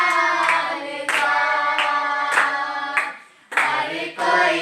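A congregation claps hands in a steady rhythm during a worship song, the sharp claps landing at regular beats over loud sustained singing and music.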